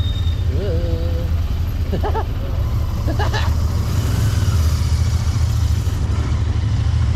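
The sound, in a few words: Royal Enfield Interceptor 650 motorcycle engine while riding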